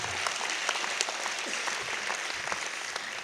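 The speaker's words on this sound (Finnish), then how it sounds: "Kunnon aplodin Antto Terrakselle" Audience applause for a comedian at a Finnish comedy roast, a dense steady wash of clapping hands filling the room at full volume throughout, with no speech over it.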